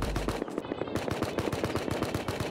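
Automatic gunfire in the survival game Rust, a rapid, loud burst of evenly spaced shots rattling close by, pausing briefly after the opening volley and then resuming in a steady, hammering stream.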